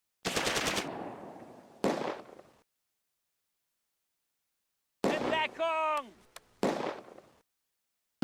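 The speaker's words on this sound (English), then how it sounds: "I start to take machine gun fire from the rail depot." Machine gun fire in the World War II strategy game Close Combat: A Bridge Too Far at Arnhem, short rattling bursts separated by silence, with a voice also heard over one burst.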